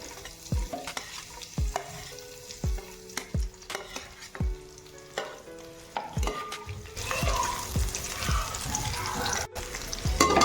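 Sliced onion stir-fried in a pan, repeated sharp scrapes and clanks of a spatula every second or so over a soft sizzle that grows louder and denser toward the end.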